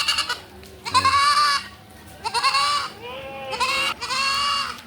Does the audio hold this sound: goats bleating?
yes